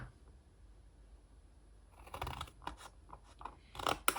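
Scissors cutting through folded paper or fabric for a fridge notebook-and-pencil holder craft, a quiet stretch followed by a series of short, crisp snips close by, with no talking.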